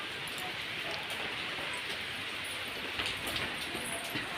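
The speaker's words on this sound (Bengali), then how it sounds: "আচ্ছা বাইরে বৃষ্টি হচ্ছে।" Steady rain falls outside, a soft, even hiss of drops with occasional brighter patters, continuous and unbroken by speech.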